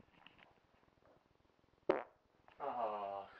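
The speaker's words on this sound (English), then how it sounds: "Oh, and a fart?" A single short fart at close range, a brief raspy burst standing out against a quiet background, followed by a tonal sound afterward.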